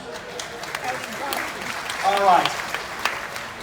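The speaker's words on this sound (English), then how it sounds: "Give her a big round of applause." An audience at a magic and comedy show on a cruise ship applauds, broad clapping filling the room while someone talks over it.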